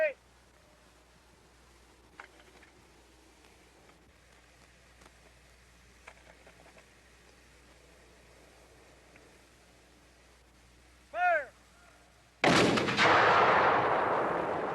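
A muzzle-loading cannon fires once with a sudden loud blast and a long noisy roar trailing off, after a quiet stretch with a faint whistle-like call and scattered ambient sounds.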